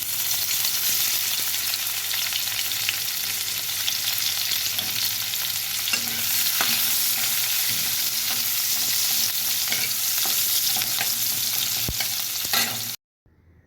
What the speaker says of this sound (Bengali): এরপর কড়াতে তেল দিয়ে, তেল গরম হলে তাতে পেঁয়াজ কুচি দিয়ে পেঁয়াজ কুচিগুলি লাল লাল করে ভেজে নিলাম।